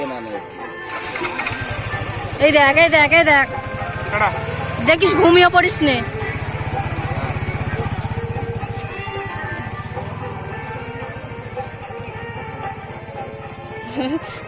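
Motorcycle engine starting and then running at a steady, rapid low putter close by, with loud voices talking over it during the first half.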